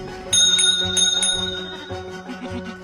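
A bright bell rings several times in quick succession, nearby, with lingering metallic overtones and softer dings trailing off.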